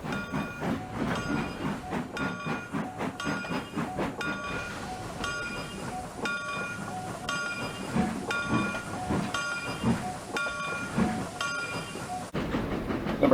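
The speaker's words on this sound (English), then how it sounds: "Number 255 is arriving at the Williams flag stop and will depart at 1:09 p.m." A steam-era passenger train in the Trainz railway simulator, set on a 1902 short line, rolls steadily into a small flag stop, its wheels clacking in a regular rhythm over the rail joints under a continuous rumble and hiss, with no voices.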